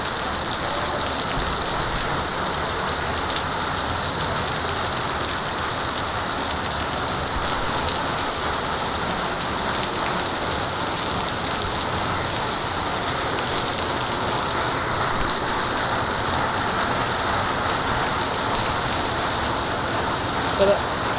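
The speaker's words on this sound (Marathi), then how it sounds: "पावसाने फुल कवर केलेलं आहे." Heavy monsoon rain in the Konkan, a dense, constant hiss of downpour on surfaces that holds steady and loud from start to finish, with no clear voices over it.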